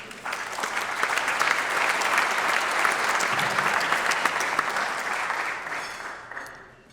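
Sustained audience applause at a chamber of commerce small business awards event, a dense steady wash of many hands clapping that holds for several seconds before fading out at the end.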